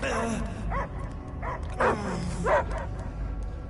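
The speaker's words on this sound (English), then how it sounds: "I hear only barking." A dog barks and yips in the Guardians of the Galaxy video game, several short close barks spaced through the scene, heard alongside people speaking.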